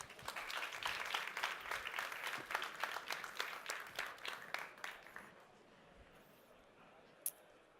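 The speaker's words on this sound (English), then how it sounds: "please join me in giving a big round of applause to Suzaan Sauerman." Applause from an audience at a talk, a dense burst of clapping that thins out and fades to scattered claps and quiet room tone after about five seconds.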